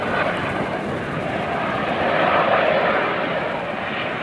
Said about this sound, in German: Ein Flugzeug über dem Gebäude, über der Innenstadt.